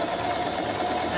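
A sewing machine stitching fabric runs with a steady, continuous mechanical whir and hum, close and fairly loud, with no talk over it.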